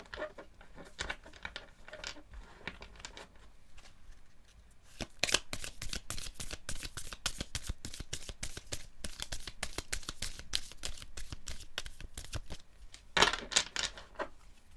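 Tarot cards are shuffled in quick riffling bursts, a fast papery flutter that starts faintly, grows steady and close, then pauses and resumes.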